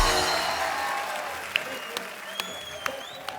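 Studio audience applause on a comedy talk show, a dense wash of clapping that starts loud and slowly fades, with a few sharp isolated claps and whistles near the end.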